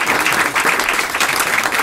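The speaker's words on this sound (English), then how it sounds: "give a warm round of applause to Joe" An audience at a talk on collective intelligence gives a warm round of applause, a dense steady clatter of many hands, close and loud, with no voices over it.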